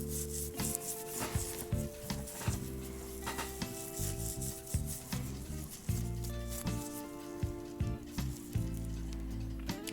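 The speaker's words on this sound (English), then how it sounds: "that little brass nut there could do with a little bit of a shine up" Steady back-and-forth rubbing as a small brass nut on a Black Forest Regula 03 cuckoo clock is polished by hand, close and continuous strokes with a faint tonal hum running underneath.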